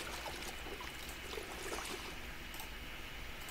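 Water being drunk in the Project Zomboid survival game, a soft, steady pouring trickle of liquid that runs continuously at low volume with no talk over it.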